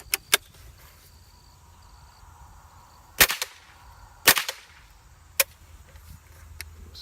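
Rifle shots fired outdoors: four or five sharp, loud cracks spaced irregularly across several seconds, each with a short ringing tail, over a low background hum with no talk.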